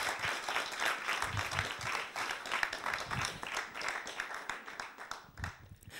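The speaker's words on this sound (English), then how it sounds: "Applause here of all my guests in the house." An audience at an African stage show gives sustained, fairly distant applause, many hands clapping steadily and thickly throughout before easing slightly near the end.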